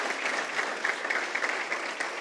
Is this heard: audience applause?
yes